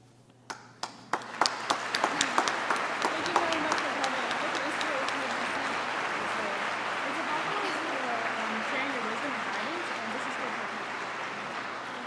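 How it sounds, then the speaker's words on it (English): After a presentation honouring David Suzuki, an audience starts with a few scattered claps that quickly swell into sustained applause, with murmuring voices beneath it as it continues. "Please give one more round of applause for the fantastic David Suzuki"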